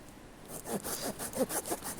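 Rhythmic rasping strokes of a worn hand saw cutting through wood, about six back-and-forth pulls at a steady pace, close by.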